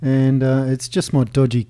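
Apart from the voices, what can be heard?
No everyday noises stand out.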